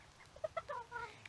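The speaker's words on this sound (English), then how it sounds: "Just feeding my chickens." Backyard chickens clucking softly while being fed corn and watermelon, a quick run of short, faint clucks close by with no talk.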